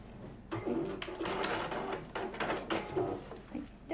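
A sewing machine stitches a fabric sacoche pouch with a zipper pocket, producing a close, steady mechanical whirring and clatter that runs for nearly four seconds.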